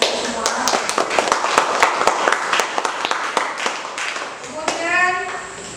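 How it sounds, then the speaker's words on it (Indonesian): A classroom of pupils claps hands in a lively, uneven burst of sharp slaps that thins out near the end, with children's voices chattering over it and a voice rising briefly at the close. "Harus tepuk tangan untuk semua"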